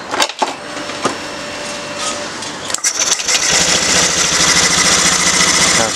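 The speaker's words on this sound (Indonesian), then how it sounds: "Nah, sekarang motornya sudah nyala normal ya." A motorcycle engine sputters with a few sharp starting attempts, then catches and settles into a steady, close, running chatter that continues to the end without talk.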